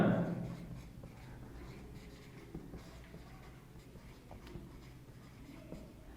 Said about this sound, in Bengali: আগে একটু লিখে নিই আমরা